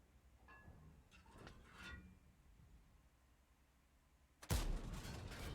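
A tank gun fires in World of Tanks with one sudden loud blast near the end, following a quiet stretch that holds only faint scattered clicks and rumbles.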